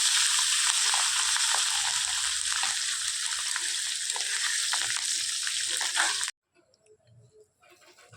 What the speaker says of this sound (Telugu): జీడిపప్పు గోల్డ్ కలర్ వచ్చేంత వరకు వేయించుకోవాలి